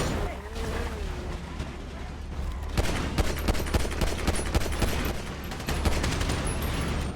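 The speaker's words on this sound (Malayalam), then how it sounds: "എവിടൊക്കെയാ വെടിവെക്കുന്നേ?" Rapid gunfire crackles through a video game roleplay session, bursts of shots repeating over a steady low rumble, with voices talking now and then.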